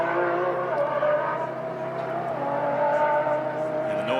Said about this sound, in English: And the noise that car makes is unbelievable.